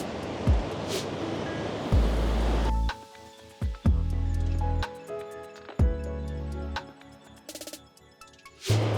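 Ocean waves wash onto a Florida beach, a loud broadband surf rush in the first few seconds that then drops away, followed by quieter stretches broken by low thumps of wind and handling.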